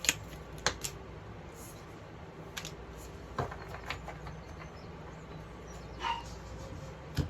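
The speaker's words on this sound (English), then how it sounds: "Sorry about the dogs." Dogs bark indoors in short scattered bursts, a few sharp yips well apart over faint room noise and keyboard-like tapping.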